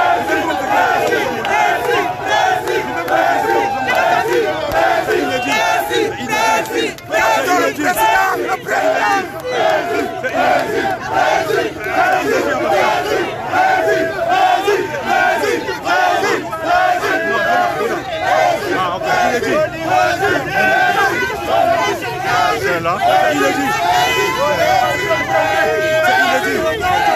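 A large crowd in Bafoussam greets Maurice Kamto's arrival with loud, continuous chanting, shouting and cheering, a dense roar of many voices that holds steady throughout.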